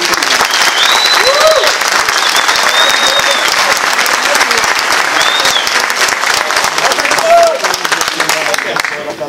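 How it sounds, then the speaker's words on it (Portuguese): A conference audience at an aquarium-hobby talk claps loudly for the speaker, a close, dense roar of applause with scattered whoops and voices rising over it throughout. "Então uma salva de palmas, Alberto."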